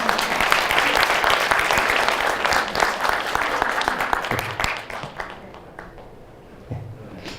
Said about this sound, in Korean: 저분에게도 박수 한번 쳐주시죠.